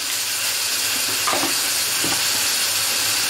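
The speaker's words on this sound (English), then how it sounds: "Mix that all in and just cook it till the meat's done." Chicken mince sizzles with salt in a pan, a loud continuous frying hiss with a few soft stirring scrapes and knocks at close range.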